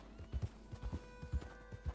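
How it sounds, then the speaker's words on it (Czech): Horse hooves clip-clop in Red Dead Redemption 2, a steady series of close, distinct thuds at an unhurried walking pace, with no talk over them. "tam je nějaký kůň?"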